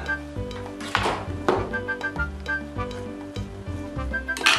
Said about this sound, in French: maintenant on va poêler les bananes.